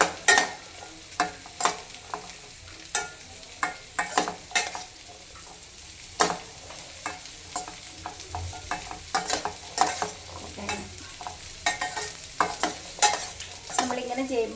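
Butter being stirred in a hot pan, with repeated sharp scraping strokes of the spoon over a steady low sizzle, close and alone without talk.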